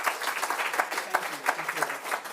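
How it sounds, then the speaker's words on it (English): Audience applause at an anti-scam summit in London, a short burst of dense clapping from a seated crowd, steady and moderately loud throughout with no pause. "Give a round of applause."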